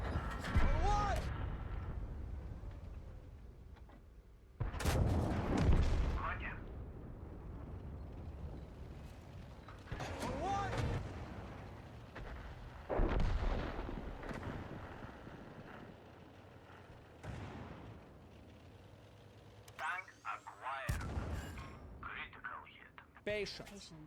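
Cannon shots from a tank in World of Tanks, several loud booming blasts spaced seconds apart, each with a long rumbling tail, while someone talks throughout.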